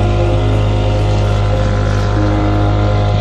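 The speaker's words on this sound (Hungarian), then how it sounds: "Brümmög a motor." A sailboat's inboard engine hums steadily while motoring into Amsterdam harbor, a loud, constant low drone with a tonal whine above it, close and unbroken throughout.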